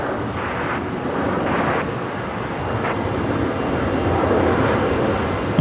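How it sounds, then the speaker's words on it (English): A QantasLink Embraer jet begins a full-length takeoff roll at night at Brisbane Airport, heard as a steady, broad engine roar with wind-buffeted rumble that builds slightly toward the end, distant and continuous. "Next aircraft to depart is actually going to be a Qantas Link Embraer, which is departing full length."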